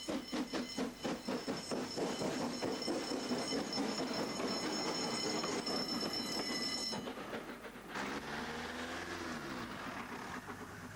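A 1925 Somerset and Dorset Joint Railway 2-8-0 steam locomotive rumbling and clanking out of Dunster station with rhythmic wheel clatter and a ringing tone, then a quieter stretch as it moves off.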